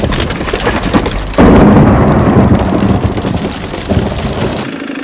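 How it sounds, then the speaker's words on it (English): Heavy hail and rain pounding down during an Erzbergrodeo ride on a KTM 300 dirt bike, a loud, dense, continuous drumming roar with gusty wind rumble and no voices. "the hail is starting to happen"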